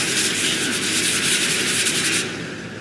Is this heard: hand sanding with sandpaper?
yes